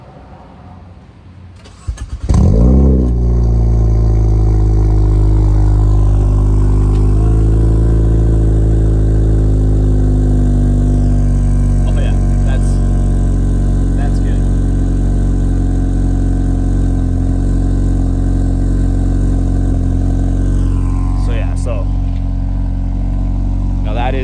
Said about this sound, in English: I'm just going to use the remote start on here.